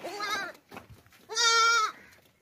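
A young goat buck on a livestock market bleats twice, each call loud and close, with a short pause and a softer rustle between them.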